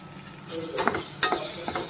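Tomato curry sizzling and starting to burn in a steel pot, a loud crackling fry with sharp bursts of hiss and a few stirring scrapes, no talking.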